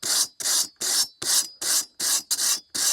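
Eight even, rhythmic strokes rasp as a machete is drawn along a knife sharpening system, each a bright gritty scrape of about a quarter second, close and clear with no talking.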